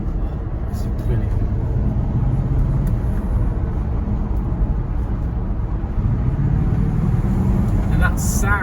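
A Bentley Arnage T V8 engine holds around 1500 rpm, a steady deep rumble heard from inside the car that swells slightly toward the end, with a brief higher noise at the close.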